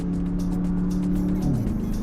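2018 Porsche Panamera Turbo Sport Turismo heard from inside: a loud, steady engine drone that holds, then drops in pitch as it downshifts near the end, with a constant road roar underneath.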